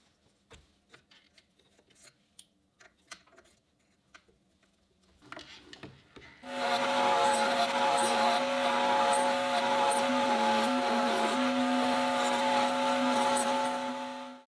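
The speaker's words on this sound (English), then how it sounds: "the mortises work with the same router bit, just a different follower on the template." A router cuts mortises in wood using a template with a follower while building a beverage-crate storage shelf. Quiet handling clicks come first, then the router starts up loud and runs with a steady high whine.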